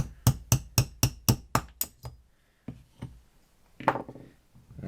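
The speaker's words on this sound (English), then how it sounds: "take your roll pin punch and a handy dandy hammer" A hammer drives a roll pin punch to free a trigger shoe: seven sharp, evenly spaced metallic taps in quick succession, close and loud, then a few softer scattered knocks and clinks.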